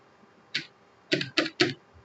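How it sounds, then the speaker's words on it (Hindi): Fingers type on a computer keyboard while entering an Excel formula: one crisp key click, a short pause, then three quick close-up clicks in a row, with no talking. "उसके बाद अपने कीबोर्ड पे ऑफर लिखेंगे"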